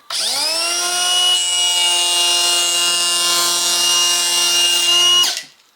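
Makita XPK01Z 18V LXT cordless planer shaving the back side of a small unclamped wood board: a loud steady high-pitched motor whine held for about five seconds, then winding down abruptly at the end of the pass.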